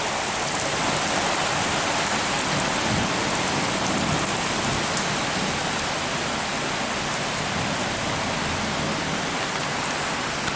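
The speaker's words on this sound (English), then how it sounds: "There, the rain's just picked up massively again." Heavy rain pours steadily during a storm in Spain, a dense, continuous hiss of downpour drumming on surfaces, loud and close with no letup across the whole stretch.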